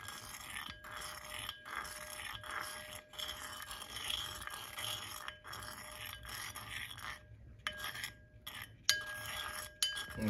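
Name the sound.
stirring pennies in table salt solution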